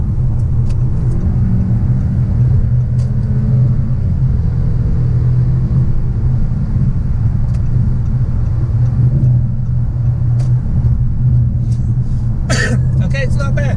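A 2017 Audi A6 2.0T Premium S Line's engine drones loudly and steadily under hard acceleration, heard from inside the cabin as a continuous low rumble with road noise.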